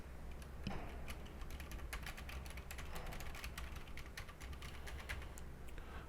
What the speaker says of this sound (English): This is what it sounds like if you're typing on your keyboard.